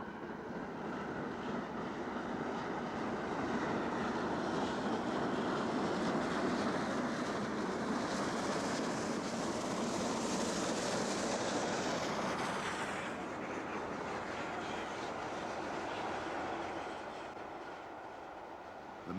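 A Great Western Railway King class steam locomotive, built in 1930, rumbles past as one loud, sustained broadband roar that swells through the middle and eases toward the end, with no talking.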